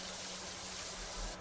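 A pressure washer sprays water in PowerWash Simulator 2 while cleaning a removals van: a constant, close, bright hissing spray with a low hum underneath.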